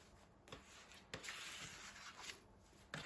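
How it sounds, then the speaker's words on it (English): A dough scraper shaping sourdough into a round ball, soft close rubbing and scraping strokes on a work surface with a few sharper scuffs, faint and alone. "you can use your dough scraper like"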